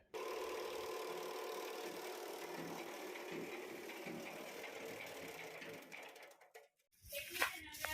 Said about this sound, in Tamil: அதனால் மோட்டார் லோடு வாங்காத ஓடுங்க